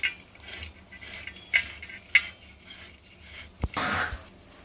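Utensil scraping and knocking against a cooking pot while boiled potatoes are stirred so they don't stick to the bottom, several scattered clinks and a final thud with a scrape, moderately close.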